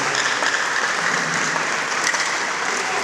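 Students at a school orientation clap together, a loud, thick, continuous roar of applause from a large group that stays level throughout.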